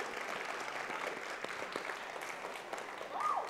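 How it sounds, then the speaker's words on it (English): Steady applause from a church congregation fills the room, a dense patter of many hands clapping at moderate volume throughout. "You can clap for that."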